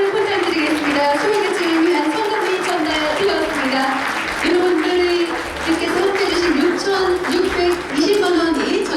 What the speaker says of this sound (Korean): 여러분 큰 박수